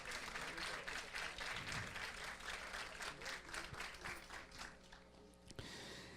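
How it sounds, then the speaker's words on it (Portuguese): An audience applauds a student invited to the panel at a communications event, a full, dense round of clapping that stops abruptly near the end and leaves low room noise. "Uma salva de palmas ao Vitor."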